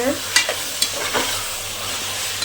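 Tomatoes sautéing in a pan for mushroom biryani, a steady close sizzle with a few sharp scrapes and clicks of stirring over it.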